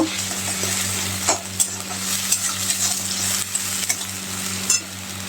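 Ground spice paste sizzles in hot oil with onion while a utensil stirs and scrapes the pan in several sharp strokes, a close, continuous frying hiss with a low hum behind it and no talk.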